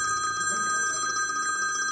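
A telephone rings steadily with a bright, continuous trilling tone, fairly loud and close, with faint background noise underneath.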